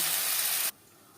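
Potatoes frying in hot oil give a loud, steady broadband hiss that cuts off abruptly partway through, leaving quiet background.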